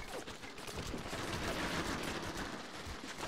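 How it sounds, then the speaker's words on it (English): Gunfire from the Medal of Honor: European Assault video game during a farmhouse battle with a tank firing, a dense, continuous clatter of shots and blasts, loud and close with no talk. "the tank is shooting now"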